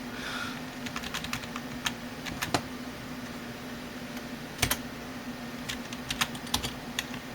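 Irregular clicking of keys on a computer keyboard, in short bursts and single taps, over a steady low electrical hum.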